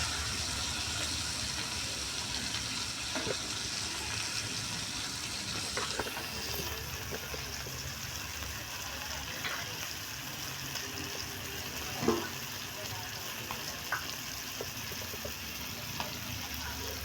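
Mackerel fillets frying in a pan with garlic give off a steady, even hiss with faint crackles and one brief clatter partway through, heard close up with no talking.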